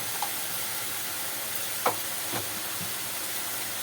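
Cumin, coriander and black pepper sizzle in a hot pan while being stirred for an Egyptian feast, a steady bright hiss with a couple of soft scraping strokes of the spoon, close and without speech.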